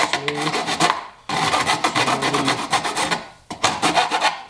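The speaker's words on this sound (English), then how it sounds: "grab the rasp file." A rasp file scraping back and forth across wood in a garage, a steady series of loud, gritty rubbing strokes in three bursts with brief pauses between, heard up close with no talk.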